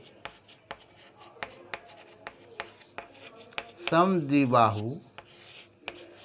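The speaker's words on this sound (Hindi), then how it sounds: "क्षेत्रफल का फार्मूला पहले हम यहाँ पर लिख देंगे" A maths formula being written by hand in a class 9 lesson: steady, evenly spaced scratchy strokes run throughout, with a teacher speaking briefly partway through.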